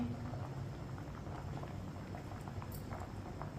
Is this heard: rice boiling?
yes